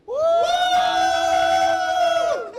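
An audience at an IHEE event shouts as loudly as it can, letting out one long, unified, sustained cry. It is loud and close, rising sharply and holding for about two seconds before cutting off.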